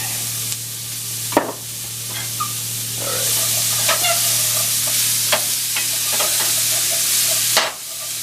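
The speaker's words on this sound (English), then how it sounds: "We're going to start with the onions and the garlic. And I'm going to stir these around a little bit." Onions and garlic are stirred around in a frying pan, with a soft sizzle under intermittent scraping and clicking of a utensil against the pan, close by and without any talking.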